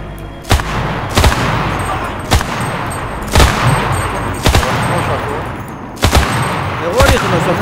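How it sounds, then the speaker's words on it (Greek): Gunfire rings out in the shooter game CRSED as a weapon fires at a car: about eight loud, sharp shots in irregular bursts, with metallic clanging in between. "Εγώ ρίχνω στο αυτοκίνητο."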